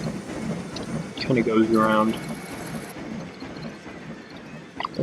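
A roller coaster train runs in the theme park building game Planet Coaster, with a rattling, clattering rumble that swells briefly and then fades while someone talks over it.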